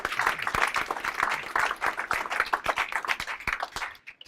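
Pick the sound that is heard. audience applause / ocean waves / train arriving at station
audience applause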